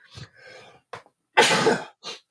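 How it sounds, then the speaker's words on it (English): A single loud, close sneeze bursts out after a few short breaths and throat noises, then a brief sniff follows. "I'm about to sneeze"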